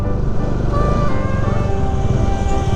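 Congested road traffic on a motorbike ride through the Spiti region, a loud, close, steady rumble of engines with a brief rising whine, heard without talking.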